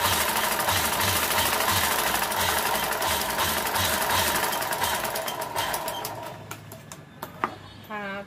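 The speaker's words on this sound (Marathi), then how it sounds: "आता आपण एक टिप मारून घ्यायची" A sewing machine runs at a steady, rapid stitching rhythm, loud and close, while stitching a puff sleeve, then slows and stops near the end with a few clicks and handling noises.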